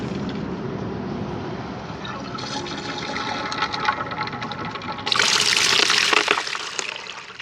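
A homemade outdoor toilet flushes rocks through with water, a steady rushing pour that swells into a loud gushing surge near the end.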